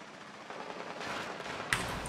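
Rapid bursts of Rainbow Six Siege gunfire crackle through a dense, noisy mix, with a sharper shot standing out near the end.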